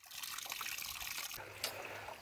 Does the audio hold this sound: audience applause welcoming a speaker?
no